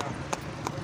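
A horse pulls a tanga cart on an outdoor ride, two soft hoof clip-clops spaced evenly under steady broadband road and wind noise, with people talking throughout.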